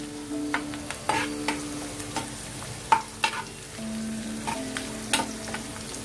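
Green chillies and beans frying in a pan for restaurant-style veg noodles, a steady soft sizzle broken by repeated clinking scrapes of a spatula stirring at an uneven rhythm.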